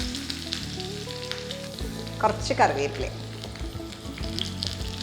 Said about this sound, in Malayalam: ഇതിലേക്ക് ചുവന്നുള്ളി ഒരെണ്ണായിരുന്നത് ചേർക്കാം.